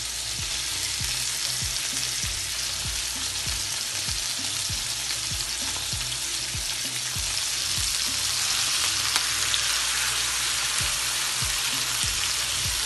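Kaleji (goat liver) frying over very high heat in a pan, giving a loud, steady sizzle with crackling pops throughout and no voices.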